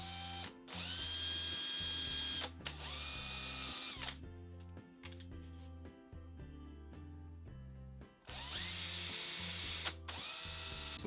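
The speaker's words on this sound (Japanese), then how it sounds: "でこのネジの部分にへこみをつけます。 穴を開けます。" A power drill bores a shallow dimple into a screw hole in a DIY dowel jig, with several sharp high-pitched spin-ups and slowdowns between quieter pauses and bursts of grinding as the bit bites, with no talking.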